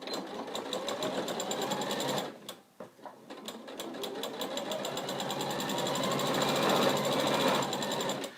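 A sewing machine runs close up, stitching the bottom seam of an NHS scrubs bag, its fast mechanical rattle pausing briefly once before resuming steadily and slightly louder, with no speech.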